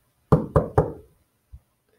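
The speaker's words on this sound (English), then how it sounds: "tapped on the door" Three firm, evenly spaced knocks on a door ring out close and clear, each with a short wooden resonance. A single softer thump follows a moment later, then quiet. No one speaks.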